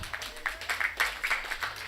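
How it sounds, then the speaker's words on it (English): A youth conference audience gives a light round of applause, a soft uneven patter of scattered clapping heard at moderate distance. "Can you give applause for yourself?"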